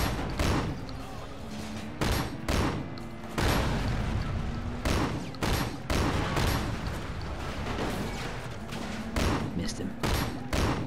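Repeated gunshots from a shooting sequence in the video game Sleeping Dogs, sharp bursts firing in uneven clusters across the clip over a constant game background, with no talk over them.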